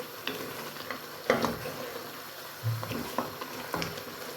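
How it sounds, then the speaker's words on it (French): Spiced food stirred in a cooking pan, with soft scrapes and a light sizzle coming in short, irregular bursts at moderate closeness. "je continue de mélanger."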